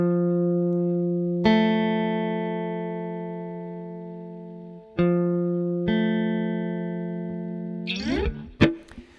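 For ear training, single sustained tones sound one after another with a clear start to each. A long held pitch changes to a second note, then two more note onsets follow, and the passage ends in a brief jumble of higher sounds.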